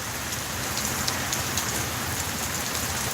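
Steady rain falling on a backyard swimming pool, a dense, even hiss of drops striking the water, constant and close with no voices.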